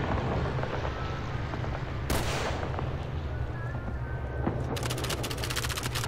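A rifle cracks at helmet targets in Call of Duty 3: one loud sharp shot, then a quick run of clipped bursts near the end over a steady background hum.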